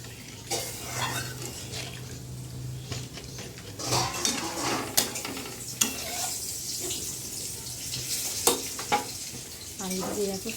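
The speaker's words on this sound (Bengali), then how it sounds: "এবার আমি বেগুন আর মাছ দিয়ে দেবো" Eggplant and hilsa fish are added to a boiling curry in a pot, with bubbling and sizzling under repeated clinks of a ladle and utensils against the pan.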